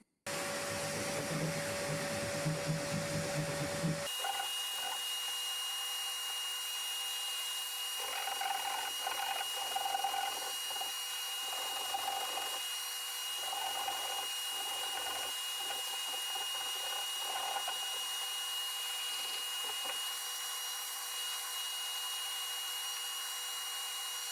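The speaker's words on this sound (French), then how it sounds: "je vais remettre le courant pour avoir l'aspirateur, hein, pour rogner le plâtre" A vacuum cleaner starts up and drones steadily, loud and continuous, drawing up dust while plaster is trimmed during a light-switch renovation, with intermittent scraping and tool noises layered over the hum.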